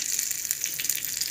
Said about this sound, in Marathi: कढीपत्ता पण छान तडतडून घ्यायचा आहे.